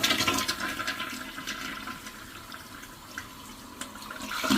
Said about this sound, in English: I'm gonna flush.